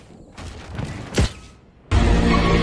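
A Fortnite explosive set off on a gas can bursts in a loud, sharp blast, then gives way to a sustained roaring, crackling rush of noise; no voices.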